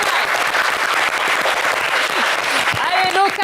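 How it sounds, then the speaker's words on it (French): A studio audience on a French TV game show bursts into loud, sustained applause, a dense wall of clapping close up, with a voice and a few whoops breaking through near the end. "On va l'applaudir très très fort."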